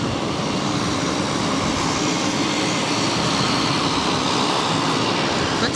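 United Airbus A319 airliner passing at Boston Logan, a loud continuous engine roar with steady broadband rumble throughout.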